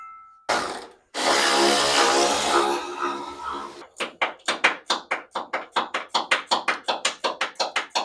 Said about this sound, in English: Next, we'll take those 3 bolts off there.